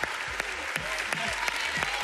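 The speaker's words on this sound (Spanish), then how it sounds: "Recibí el aplauso, por favor." Audience applause on a televised talent show audition after a pizza-making and acrobatics act, a steady wash of clapping with a few sharper claps and some faint voices mixed in.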